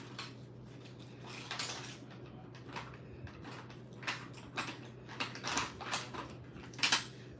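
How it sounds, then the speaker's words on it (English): Plastic stick clinks and scrapes around a cup of UV resin tinted with alcohol ink, a run of small close taps and knocks that grows busier toward the end, heard alone over a steady low hum. "now I'm gonna just stir it up a bit"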